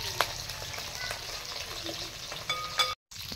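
Hilsa fish pieces frying in hot oil in a kadai for fish cutlets, a steady soft sizzle with faint crackles throughout and a brief gap near the end.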